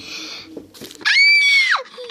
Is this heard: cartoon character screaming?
yes